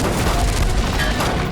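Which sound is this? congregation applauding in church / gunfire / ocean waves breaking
gunfire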